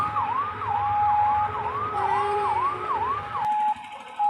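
A fire engine siren wails outdoors in rapid rising and falling sweeps. The sound is loud and continuous, then shifts to a steadier tone before cutting off near the end.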